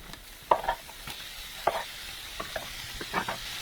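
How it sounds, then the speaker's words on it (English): Onions go into a preheated, greased cast iron skillet, giving a soft sizzle under intermittent scraping and stirring clinks, fairly close and quiet. "Today we're using a cast iron skillet that has been preheated and pre-greased. First we're going to add in the onions"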